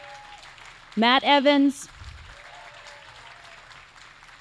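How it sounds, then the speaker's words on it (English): Applause for volunteers at the 2024 Lake Oswego Community Awards event: a short, loud burst of clapping and cheering lasting under a second. A voice speaks quietly before and after it. "we got to give them a round of applause because they are amazing"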